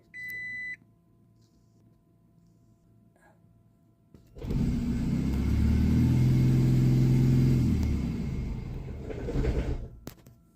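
A Toyota Prius starts its engine during a compression test: after a short beep, a loud low mechanical rumble cranks up and holds steady for several seconds, then cuts off abruptly, with no talking.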